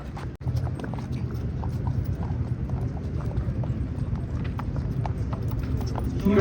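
Hooves of horses at a Jagraon horse show clip-clop in a steady, fairly close rhythm against a busy crowd murmur, with a sharp knock near the start.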